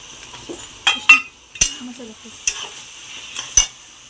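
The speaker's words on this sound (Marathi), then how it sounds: "छान फ्राय होत आहे." Masala with tomato masala, pasta masala, red chilli and turmeric frying in a pan, heard as a soft sizzle with several sharp clinks and scrapes from a spoon against the pan at irregular intervals.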